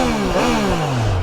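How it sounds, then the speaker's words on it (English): A Triumph Trident 660 three-cylinder motorcycle engine, warmed up, revs sharply in one quick blip that climbs and then falls back, loud and close. "it starts up with, yeah, classic Triumph triple sound"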